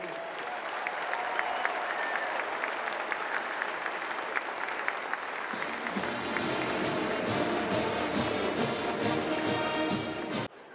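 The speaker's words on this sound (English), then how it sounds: "How about a round of applause for this great group?" An audience at a Military Appreciation Day presentation at Clemson breaks into a sustained round of applause, clapping building and thickening partway through before cutting off near the end.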